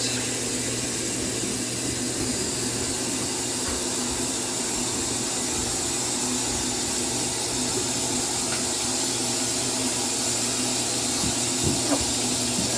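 Hot water pours steadily into a washing machine set for a large load, a constant rushing flow that holds at an even level for the whole stretch with no talking.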